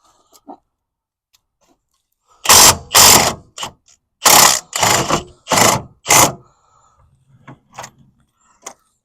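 A ratchet wrench works a stuck 17 mm transmission mount bolt on a 2007 Mazda CX-9, clicking in about six loud, close bursts of rapid ratcheting, with quieter handling noises before and after.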